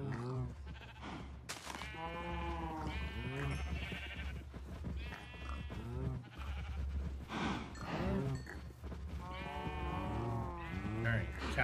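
Minecraft cows being killed for leather in a hardcore survival game, with bleat-like animal calls repeating throughout under a steady low hum and intermittent talking.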